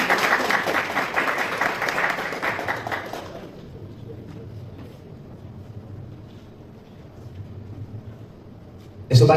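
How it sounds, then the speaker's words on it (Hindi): Audience at a school prize-giving ceremony claps steadily for about three seconds, then the clapping dies away into low, muffled crowd noise that sounds like wind. "जोरदार तालियां"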